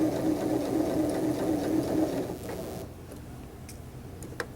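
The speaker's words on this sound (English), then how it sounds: "You're going to sew all the way" Sewing machine stitching a curved seam on a hip pocket piece, sewing to the pocket edge; a steady mechanical whir runs close and loud for over two seconds, then stops, leaving faint ticks and small clicks.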